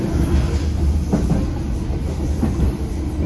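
An Irish Rail Class 8100 EMU runs between Greystones and Dublin Connolly, heard onboard as a loud, steady low rumble of wheels and motors with faint rhythmic clicks over the track.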